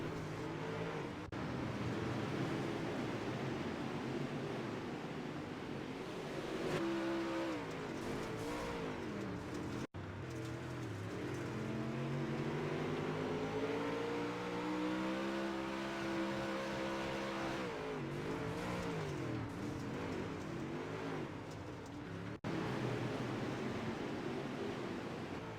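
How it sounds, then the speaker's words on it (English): UMP dirt modified race car at Eldora, its engine screaming near the rev limiter in a steady loud drone with rising and falling pitch sweeps as it powers around the track. "You're really trying to hit that rev limiter."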